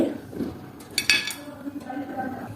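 A knife cuts boiled eggs on a plate, with a few sharp clinks of metal against the plate among softer scraping and handling noises, close by.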